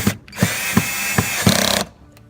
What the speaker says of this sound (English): I've got some self-tapping gold screws, one there, I'll put one here.